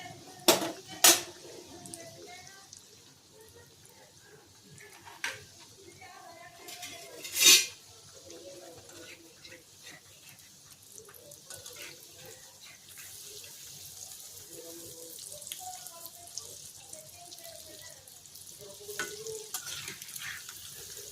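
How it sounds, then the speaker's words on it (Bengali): Dahi pakora fry in hot oil while a spatula flips them, giving a low steady sizzle under sharp metallic clinks and scrapes against the pan, with a few louder knocks scattered through. "সাঞ্চা দিয়ে ঠিক উল্টানো যায় না, খুন্তি দিয়ে উল্টাবো আর সাঞ্চা দিয়ে তুলবো।"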